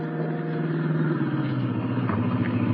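An old jalopy engine rumbles steadily and draws nearer while shifting gear as a sound effect in an old-time radio detective drama, a low, continuous motor drone with no voices.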